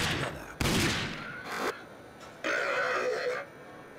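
Video game gunfire as mutants are shot: a few loud, sharp bursts at wide intervals, each with a short ringing decay, close and without talk.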